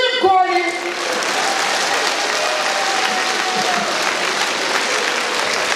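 Guests at a Ukrainian wedding in Truskavets applaud the newlyweds, a loud, dense burst of clapping that follows a brief tail of music at the start and continues evenly and close to the end.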